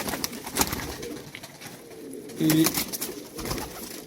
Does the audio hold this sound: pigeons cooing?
yes